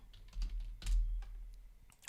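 Typing on a computer keyboard in a terminal session, a quick, soft, irregular run of key clicks heard close and alone, with no talking.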